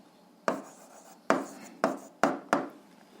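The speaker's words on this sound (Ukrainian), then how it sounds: "зараз записуємо загальну відповідь, пишемо відповідь" A pen writes an answer on paper in close, quiet strokes: five sharp, scratchy taps spaced unevenly over about three seconds, with no talking.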